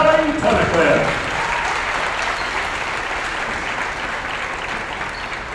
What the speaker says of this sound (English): Let's give each of these young ladies another round of applause.